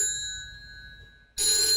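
A telephone rings at night in a home drama scene, a steady electronic bell tone that drops out briefly and then returns louder, with no talk over it.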